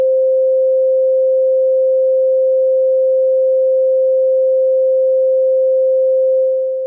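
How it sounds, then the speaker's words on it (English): A single pure, steady mid-pitched sine wave test tone at -10 dB holds unchanged and fairly loud for several seconds, dipping slightly at the very end. "Let's set this sine wave to -10 dB"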